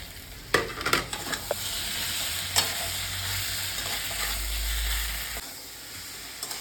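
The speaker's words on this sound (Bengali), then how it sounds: "এই বাকি ডিম ভাজাগুলো এবার দিয়ে দেবো।" Fried fish roe stirred into spiced potatoes in a frying pan, giving a continuous close sizzle with irregular spatula scrapes and a low rumble in the middle, and no voices.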